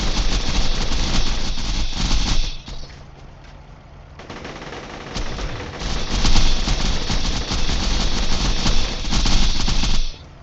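Leadstorm gun in Borderlands 2 fires at the Badassasaurus in loud, rapid automatic bursts. It pauses briefly after a couple of seconds, then resumes in dense sustained fire, with no talking.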